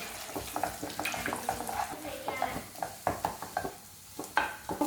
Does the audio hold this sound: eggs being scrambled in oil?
yes